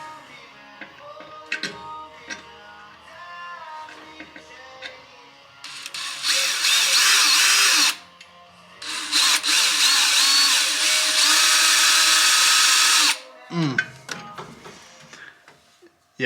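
Power drill boring pilot holes into a Chevy Silverado truck's dust shield, two long loud high-whining runs of several seconds each, separated by a brief pause, with small clicks and handling noise around them.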